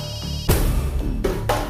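A telephone rings with repeated electronic bursts in an indoor domestic scene, the tone cycling in short pulses, fairly loud and close, with no talk over it.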